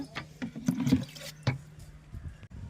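Water mixed with powder fertiliser is poured onto potted plants, rose bushes among them, in a home garden: soft splashing and trickling in uneven bursts, close and moderately loud, with a sharper splash near the middle and no talking.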